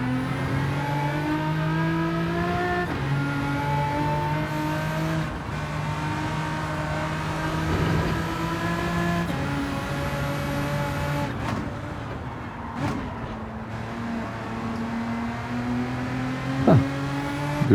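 A tuned 2002 Renault Avantime 3.0 V6 24V, making almost 500 hp, races a lap in Gran Turismo 7. The engine revs steadily up and down through gear changes, loud and close, with a whining tone.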